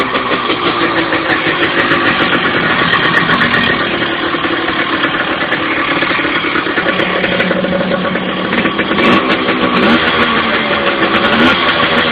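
A Yamaha RT100 two-stroke motorcycle engine runs steadily and loudly close by, a buzzing, rattly drone with a slight rise and fall in revs, and no talking.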